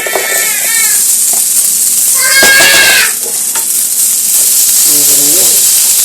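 Diced potato sizzles in a hot pan with a steady, loud frying hiss throughout, and a few brief squeaky, meow-like tones cut over it.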